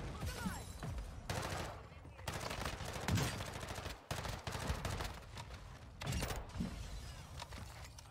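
Near-continuous automatic gunfire in the Warzone 2 battle royale on Ashika Island: dense, loud bursts of rapid shots running throughout, with brief breaks and faint voices in the mix.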